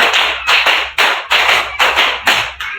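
A class of students claps a rhythm of five claps done twice during a religious lesson, crisp repeated bursts of many hands striking together in an even, steady beat, close and loud.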